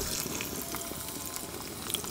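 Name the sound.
mustard seeds spluttering in hot oil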